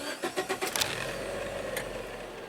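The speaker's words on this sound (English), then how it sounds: "And it just started without the clutch." A manual-transmission car engine is cranked without the clutch pedal pressed: a few rhythmic starter whirs, then it catches and settles into a steady idle, close and fairly loud.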